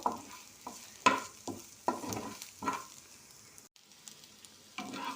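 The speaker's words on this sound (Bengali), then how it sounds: "মরিচ আর পেঁয়াজটাকেও একসাথে একটু ভালো করে ভেজে নেব" Onions and green chillies fry together in a pan with a soft, low sizzle, broken by several spatula stirs and scrapes at an irregular pace.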